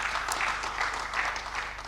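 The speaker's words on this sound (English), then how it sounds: "Please, another round of applause for him." An audience at the opening ceremony of an engineering society's annual week in Abuja gives a round of applause: even, continuous clapping that fills the room without a break.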